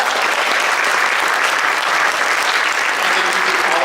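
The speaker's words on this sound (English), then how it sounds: "we just want to give Dave a round of applause" A jazz concert audience at a university library applauds, dense clapping filling the room steadily and evenly for a few seconds.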